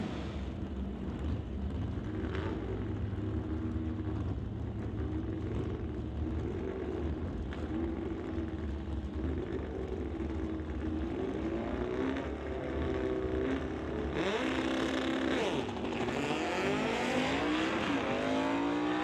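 Drag racing launch at an NHRA Summit ET Series bracket race, a VW Beetle and a Comet leaving the line side by side with loud sustained engine roar that rises in pitch as both cars accelerate away.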